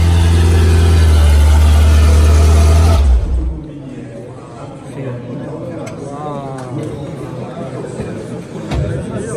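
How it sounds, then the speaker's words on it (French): A Ferrari F40 engine revs loudly at a classic car show for about three seconds, a deep sustained roar that cuts off into indoor crowd chatter and nearby talking. "vous avez entendu le moteur d'une Ferrari F40"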